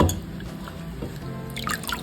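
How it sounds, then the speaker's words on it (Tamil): Hibiscus flower petals are washed in water: water drips and trickles softly nearby, with small splashes and light liquid sloshing, quiet and without any talking. "பூவெல்லாம் நல்லா தண்ணியில் கழுவிட்டு"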